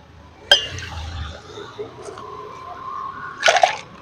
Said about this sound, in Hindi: आप आवाज़ सुनो सोडा बोतल खोलने के भैया की